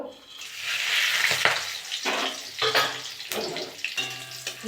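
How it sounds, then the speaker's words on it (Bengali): Cumin, cinnamon, cardamom, cloves, dried red chillies and bay leaves hit hot oil for aloo dum and burst into a loud close sizzle, with surges and stirring clatter through the clip and no speech. "ওই তেলে আমি গোটা জিরে দিয়ে দেবো গরম মশলা দিয়ে দেবো"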